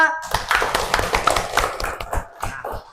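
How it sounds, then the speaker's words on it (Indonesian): Fourth-grade schoolchildren in a classroom clap with quick, uneven hand taps, close and moderately loud, for about three seconds, with some voices mixed in. "tepuk tangannya mana?"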